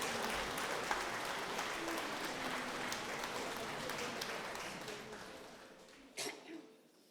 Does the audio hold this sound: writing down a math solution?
no